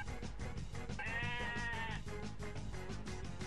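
Sheep bleat in The Simpsons Skateboarding video game, a wavering nasal bleat rising about a second in, heard over steady pulsing game music.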